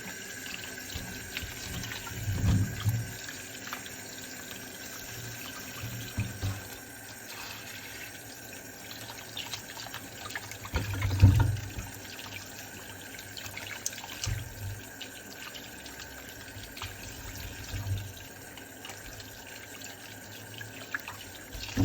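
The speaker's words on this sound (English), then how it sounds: "So the first thing that we're doing is we're washing our ChoCho." Chayote being washed under a running kitchen tap, a faint steady stream of water with occasional louder splashes and knocks as the vegetable is turned by hand.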